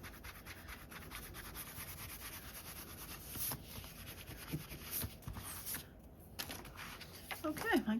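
A small glue eraser rubs across cardstock in quick, soft, scratchy strokes, faint and close, with brief pauses between passes.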